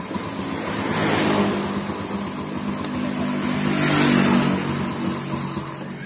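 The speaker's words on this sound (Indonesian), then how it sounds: "Kita dengarkan halusnya suara motor pakai piston baru" A Yamaha Vega R motorcycle engine running after fitting a new aftermarket piston: a steady mid-pitched idle with a couple of gentle revs swelling and easing back, close and continuous with no talk.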